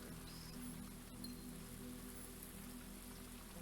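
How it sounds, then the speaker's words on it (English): Rain ambience in the greenhouse room of the video game Blue Prince, a soft continuous patter of drops over a low steady hum, quiet and even with no voices. "I love that it sounds like it's raining in here."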